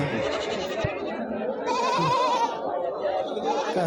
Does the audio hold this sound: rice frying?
no